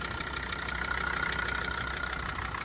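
A cold Jeep WJ 2.7 engine idles in a steady, even rumble that holds close and constant throughout, with no voices over it.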